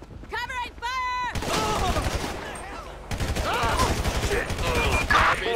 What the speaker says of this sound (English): Got your cover fire!